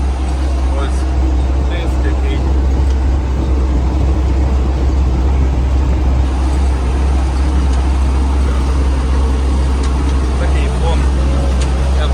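An MTZ 892 tractor pulling a disc harrow runs with a loud, steady low engine drone and rumble across a field, continuous throughout.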